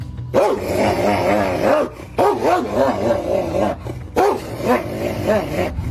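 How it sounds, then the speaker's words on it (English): A large dog barks in deep, aggressive bursts, three rapid volleys of loud growling barks close by with brief pauses between them. "Its deep, ferocious bark was enough to make even the most seasoned animal lover take a step back"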